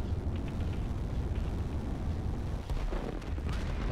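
Rockets and SAM units firing in the Line War strategy game, a dense, continuous rumble of booms and bursts with scattered sharper pops throughout, loud and steady with no talking.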